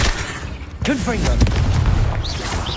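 Confringo blasting spell in Hogwarts Legacy gameplay, a loud booming explosive burst with crackling impacts and whooshing spell effects, close and dense.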